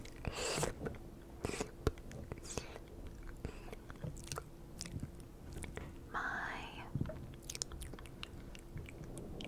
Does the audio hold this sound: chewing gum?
yes